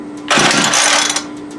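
A Homelite UT33650A 26cc string trimmer being pull-started, a loud, ragged engine-like burst lasting about a second before it dies back to quiet, without the motor catching.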